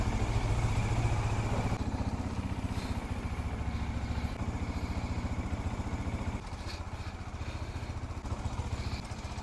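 A motorcycle engine idles close by with a steady low throb as the bike is taken out for a ride in Jhansi, running continuously throughout with no talk over it.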